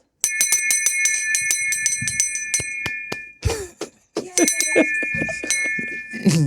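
A bright metallic captain's bell rings in a rapid run of strikes, pauses briefly amid some rustling, then rings again repeatedly, clear and close.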